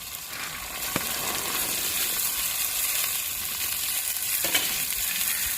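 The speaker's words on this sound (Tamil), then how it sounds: "வெட்டி வச்ச உருளைக்கிழங்கையும் சேர்த்துக்குருவோங்க பட்டாணியும் சேர்த்துக்குருவோங்க" Chopped potatoes and green peas fry in a pan for a green pea gravy, a steady dense sizzle close and even throughout, with a couple of soft knocks of stirring and no talk.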